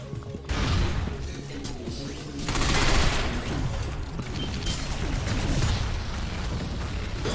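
Gunfire aimed at a robot enemy in the third-person shooter Binary Domain, with dense bursts of shots and crashing impacts that keep on through the whole stretch and swell louder around the middle.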